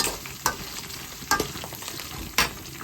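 Dry red chillies frying in oil in a pan for gongura pulihora, a steady close sizzle broken by three sharp stirring scrapes spaced about a second apart, with no voices.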